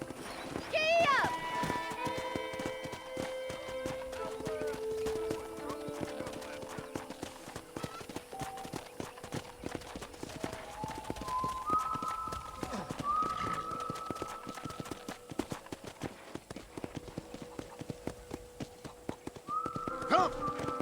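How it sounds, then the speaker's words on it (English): Clip-clop of a horse's hooves in Red Dead Redemption, steady rhythmic hoofbeats over ambient game sound, with a brief whinny near the start and spoken dialogue throughout. "let's see if you can still ride a horse."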